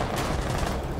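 A loud, close burst of gunfire from the video game Rainbow Six Siege, filling a single second with a dense crackling blast and no voices over it.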